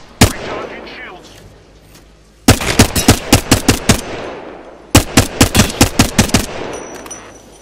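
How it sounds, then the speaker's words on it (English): Loud video game gunfire from Apex Legends: an opening shot, then two evenly paced strings of heavy single shots, roughly eight each, separated by a brief lull, with no talking. "I'm spotted, taking fire."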